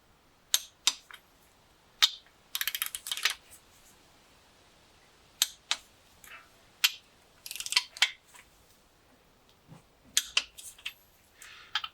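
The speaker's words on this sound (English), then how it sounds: "so now we'll start torquing up to 40 first." A torque wrench tightens bolts on a Volvo B230 engine during a rebuild, giving sharp, close ratcheting clicks in short separate bursts with quiet gaps between them and no one talking.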